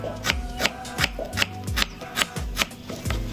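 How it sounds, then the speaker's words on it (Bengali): A knife finely chopping raw onion for a mango bharta, producing rapid, steady chops close up, roughly three per second, each a crisp knock on the board. "দেখেন আমরা পেঁয়াজ কত দ্রুত কাটতে পারি এবং অনেক চিকন করে"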